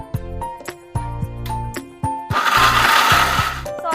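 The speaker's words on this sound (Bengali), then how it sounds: "এবার সবগুলোকে একসাথে গ্রাইন্ড করে নিচ্ছি।" A mixer grinder whirs in short bursts as garlic and soaked red chillies are ground, with brief pauses between pulses and a longer, louder grinding run near the end; no one speaks.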